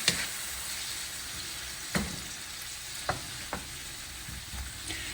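A stir fry with garlic and black pepper is stirred in a pan, a few scattered scrapes and taps of the utensil over a quiet, steady sizzle.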